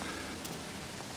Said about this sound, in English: there is a lot of rain actually